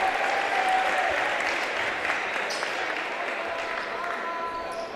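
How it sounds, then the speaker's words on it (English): High school basketball crowd in a gym at Bedford versus Nashua North, applauding a player's hustle after a collision: loud, sustained clapping and crowd noise that fades a little toward the end. "Good hustle by Pena. Gets a round of applause."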